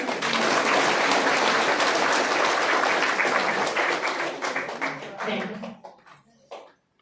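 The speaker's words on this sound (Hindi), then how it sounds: "ताली तो बजा दो।" An audience at a spiritual gathering claps together in a dense, sustained burst that holds steady for several seconds, then breaks into scattered claps and dies away, with some voices mixed in.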